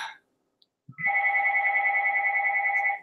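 A telephone rings at home, a steady electronic warbling tone that starts after a short pause and sounds continuously, fairly loud and close, with no talking over it.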